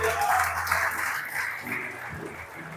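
A church congregation applauding together, a dense wash of clapping that slowly tapers off.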